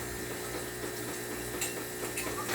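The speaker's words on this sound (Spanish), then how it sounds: "comenzamos a agregarle más agua" Water pours steadily into a container of tomato seeds, a continuous faint splashing and trickling with light clinks of the vessel.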